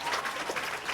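A crowd claps for a guest at a school donation event in Sierra Leone, a short, brisk patter of applause with voices mixed in.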